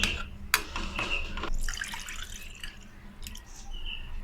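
Water poured into a pan of toor dal with fried ground masala for spicy Malvani dal, a brief splashing pour at the start followed by faint dripping and liquid sounds, close by with no talk.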